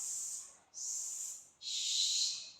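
Three drawn-out, breathy hisses in a row, made by a human voice imitating a snake, each trailing off before the next begins.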